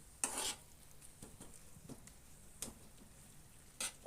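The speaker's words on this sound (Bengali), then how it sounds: "তো এবার সমস্তটাই এভাবে খুন্তি দিয়ে মিশিয়ে নিচ্ছি।" A spatula stirs spice paste with onion and tomato in a pan, scraping in a few separate short strokes with soft sizzling between, close and fairly quiet.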